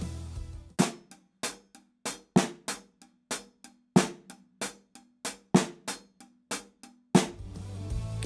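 A drum exercise with groups of five in the right hand over steady quarter notes in the left, heard as sharp, evenly spaced hits with quieter strokes between them in a steady repeating pattern, played alone.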